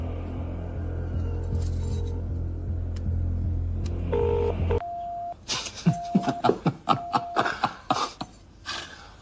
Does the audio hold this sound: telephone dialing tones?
yes